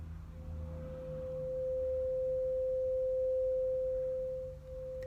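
A steady pure 528 Hz tone used for Reiki, holding one unbroken pitch for several seconds, soft and continuous, over a faint low background hum.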